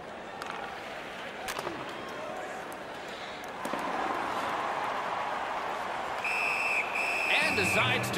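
A referee's whistle in the NHL 19 hockey video game, Ottawa Senators against Toronto Maple Leafs on PlayStation 4, blows near the end as a bright, sustained tone over steady arena crowd noise.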